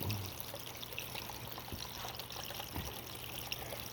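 Water running steadily through a gold sluicing pan outdoors, a soft continuous trickle and wash with faint splashes, low and even throughout, no voices.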